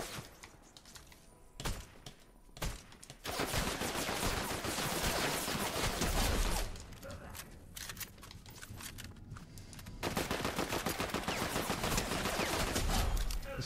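Rapid bursts of video-game gunfire, apparently a shotgun or rapid-fire weapon, crackle loudly in dense volleys with brief pauses between them, close and continuous over a busy game soundscape.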